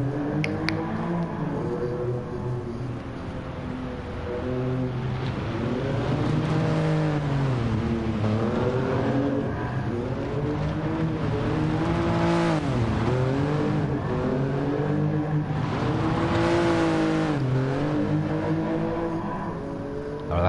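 A Toyota Yaris GR races in the Gran Turismo GT Sport video game, its engine droning loudly and steadily, rising and falling in pitch through gear changes and revs with no talking over it.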